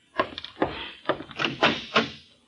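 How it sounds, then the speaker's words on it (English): Door sound effect in a classic detective radio drama: a series of close, sharp knocks on a door in uneven groups, loud and alone without talk. "There's someone at my door."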